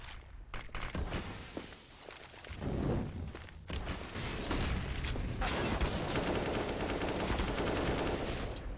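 Gunfire in a Counter-Strike match on the Overpass map, around the B bomb site: dense bursts of shots with clattering footsteps, near and loud, building into sustained firing in the second half.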